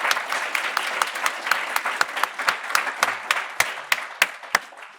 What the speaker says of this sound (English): Can we give Group 3 a round of applause?